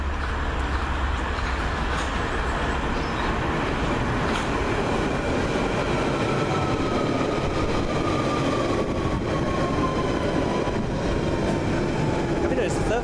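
A London Underground train running toward West Ruislip, a steady rumble of wheels on rails with rhythmic clickety-clack and a faint rising squeal, continuous and close from inside the carriage.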